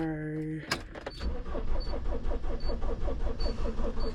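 A van engine cranks and catches after a harmonic hum, then settles into a steady idle with rhythmic pulsing, close and fairly loud inside the cabin.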